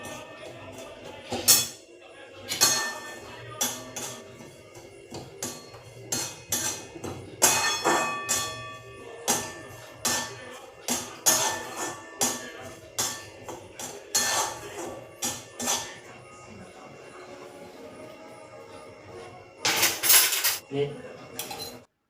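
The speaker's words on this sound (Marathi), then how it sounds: "तर चला मी आता हे सारण भाजून घेते" Sweet semolina filling being roasted in a metal pan, with repeated close clinks and scrapes of a spoon against the pan at an uneven rhythm and a few louder clangs.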